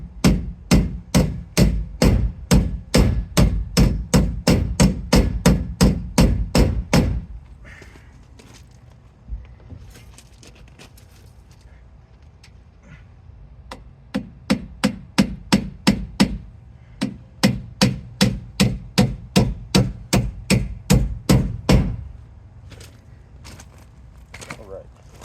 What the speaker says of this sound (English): I'm just using like a little, this is like a little craft hammer right here.